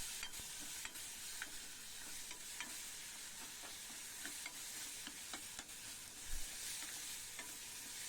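Bitter gourd sautéing in a pan with turmeric and crushed ginger and garlic, a steady close sizzle with frequent stirring scrapes and clinks throughout, no voices.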